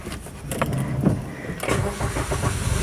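Car engine revving as the driver releases the clutch and pulls away on a hill, a steady mid-pitched engine drone rising in effort, close and continuous with some cabin clatter.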